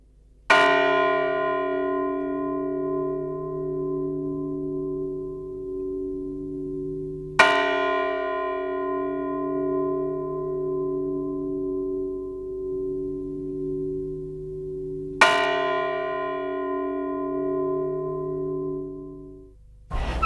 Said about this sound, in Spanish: Voy a hacer el toque de oración, que se hacía al amanecer,